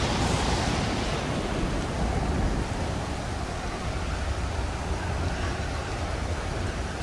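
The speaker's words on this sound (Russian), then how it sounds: "Нифига себе, волны." Storm waves in the video game Stranded Deep roar and crash continuously, a loud, close, broad wash of surf and wind that swells slightly at the start and then holds steady with no voices.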